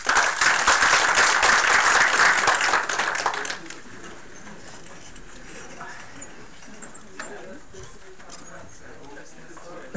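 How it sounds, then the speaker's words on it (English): A seminar audience applauds the speaker at the close of a talk on FeO2 and FeOOH, with loud clapping for about three and a half seconds before it drops to quiet room sounds and faint movement. "we were just applauding the speaker"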